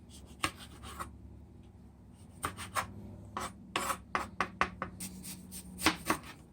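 A knife chops through pepper for Jamaican pickled pepper sauce, giving a series of soft, close cuts and scrapes at an uneven rhythm in a quiet kitchen.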